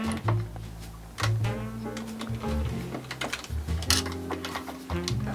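A hand-cranked sewing machine stitches leather shoe uppers in slow, uneven bursts, its needle clattering in short, closely spaced ticks that pause and restart.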